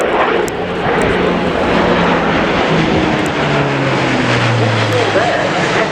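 An Airbus A400M military transport plane flying a display at an air show, its turboprop engines roaring loud and continuous with a drifting pitch as it pulls up and banks, with a commentator talking over it.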